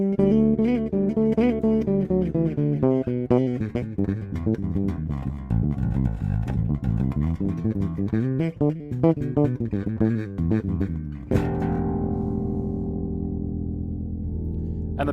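A Squier Jaguar bass with a black headstock plays a continuous, fairly loud line of sustained notes and sliding runs, ending on a long ringing chord-like note with no talking.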